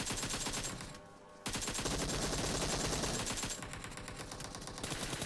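Gunfire from the video game PUBG Mobile rattles in loud rapid bursts, pausing briefly twice before resuming, with no talking.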